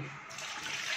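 Water pours steadily into a pressure cooker set on a stove for chicken haleem, a continuous close splashing rush filling the whole moment.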